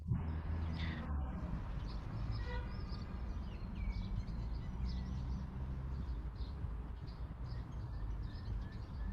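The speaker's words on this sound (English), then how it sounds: "you hear also the sound of the birds" Birds chirp in the garden of Gethsemane, faint calls scattered over a constant low rumble of nearby street traffic.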